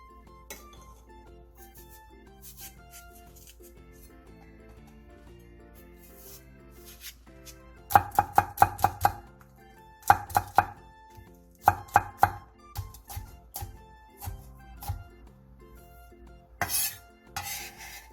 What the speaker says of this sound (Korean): 대파 2분의 1개, 청양고추 1개, 청양홍고추 1개를 길게 반으로 가른 뒤 쫑쫑 썰어주세요.